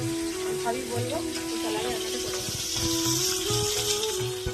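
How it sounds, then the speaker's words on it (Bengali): Bata fish frying in a pan, a continuous hiss and sizzle that runs throughout, with a steady hum and some faint background voices underneath. "এই যে বাটা মাছগুলো ভাজা হতে এদিকে বসিয়ে দিলাম"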